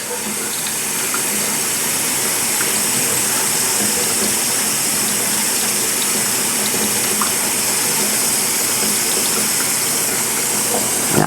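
Water runs steadily from a tap into a kitchen sink while a hot pan is scrubbed clean, a constant close rushing hiss with no one talking.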